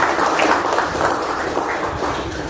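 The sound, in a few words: applause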